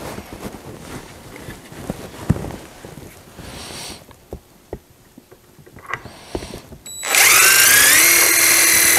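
A power drill drives silver screws with decorative washers into chair seat rails, a loud continuous whine starting near the end after a stretch of clattering handling and brief tool bursts; no one speaks.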